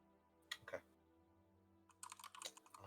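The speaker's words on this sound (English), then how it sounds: "Oh, someone's typing." Keys on a computer keyboard clatter in two short bursts, a couple of isolated taps and then a faster run of typing, fairly faint and in a quiet room.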